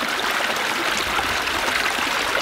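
Spring water flowing out of the ground beside a river, a steady close trickling and gurgling stream that runs continuously at moderate volume with no voices.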